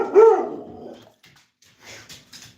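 A dog gives one loud close bark at the start when a delivery truck comes around, then a few fainter yips and whimpers after a short pause.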